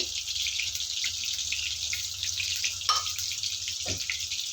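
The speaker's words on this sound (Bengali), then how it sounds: "তেল গরম হয়ে গিয়েছে তেল দিয়ে দেবো দিয়ে চার পিস কাঁচা ঝাল দিয়ে দেবো" Four green chillies dropped into hot oil in a pan for a pumpkin, Malabar spinach, potato and tiger prawn curry fry with a steady, close sizzling hiss that runs throughout, with a couple of faint clinks.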